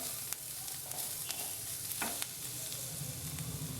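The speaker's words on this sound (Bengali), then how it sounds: "এক 2 সেকেন্ডের মতন নাড়াচাড়া করবো" Ingredients for palak corn are stirred in a hot pan, with a soft continuous sizzle and occasional spatula scrapes and taps, close by and without speech.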